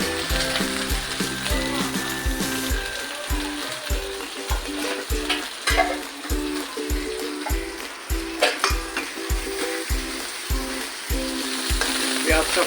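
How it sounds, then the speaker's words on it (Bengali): Chopped onions sizzle and fry in a very hot kadai for egg biryani, a steady loud crackle broken by regular scraping strokes of a spatula stirring them, with no talking. "পেঁয়াজটা ফ্রাই করে লাল লাল করে দেবেন"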